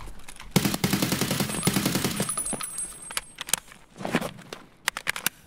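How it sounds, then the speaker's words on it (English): Gunfire in the shooter game Escape From Tarkov: loud sustained automatic bursts for about three seconds, then scattered sharp single shots and a muffled impact, with no talk. "Oh, I'm getting shot at."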